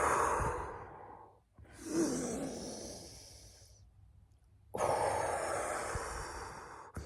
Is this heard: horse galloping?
no